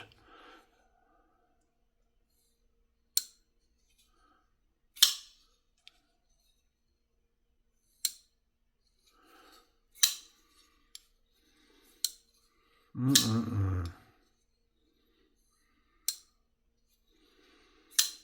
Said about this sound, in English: Hear the little click when it lands?